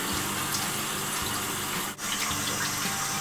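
Tap water runs steadily into a sink for face washing, a continuous gush with a brief dip partway through, close and fairly loud with no talking.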